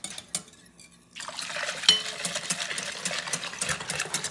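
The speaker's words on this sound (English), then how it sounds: "now we're gonna continue to whisk this hot liquid" Hot liquid is whisked vigorously in a bowl, a rapid, continuous metallic clicking and swishing that starts abruptly after a quiet moment and carries on close and clear to the end.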